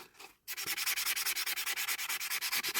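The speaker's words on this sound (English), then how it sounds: "Might do a bit of a sanding on there." Sandpaper rubbed back and forth over a diecast metal Corgi army field kitchen toy casting, fast even strokes in a steady rhythm after a brief quiet start, close and fairly soft.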